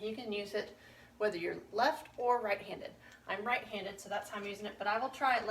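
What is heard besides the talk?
None of the usual background noises is heard.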